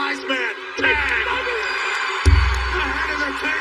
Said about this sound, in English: That's the sound of a sold-out Dunkin' Donuts Center ready to implode